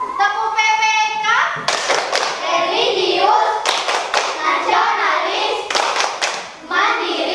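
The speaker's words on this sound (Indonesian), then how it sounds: "Mari kita tepuk PPK. Tepuk PPK." A school class claps in rhythm during a chanted classroom cheer, children's voices reciting together over sharp, loud, patterned claps that come in quick bursts.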